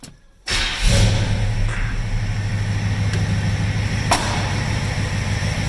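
A 1984 Chevrolet K10 Silverado 4x4 truck engine cranks and catches after a brief quiet moment, then settles into a steady, fairly loud idle with light revving, heard close up without voices.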